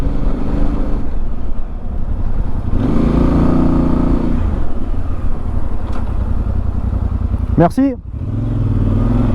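A VOGE 800 DSX Rally, a 230 kg motorcycle, rides a winding mountain road, its engine droning steadily under heavy wind rush, with someone talking over it.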